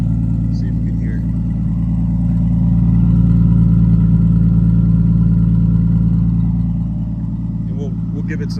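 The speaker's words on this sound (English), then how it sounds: "The exhaust has a nice deep sound to it." A 1998 Nissan Skyline R34 25GT-T's deep, rumbling exhaust idles steadily, swelling slightly louder midway, with a faint voice talking underneath.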